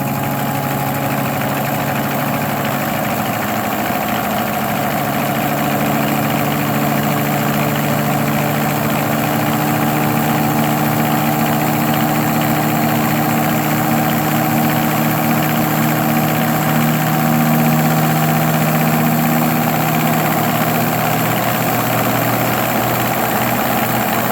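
A Sun distributor test machine spins an Oldsmobile 4-4-2 W-30 distributor, giving a loud, steady motor hum with a constant whine, running evenly throughout with no talking.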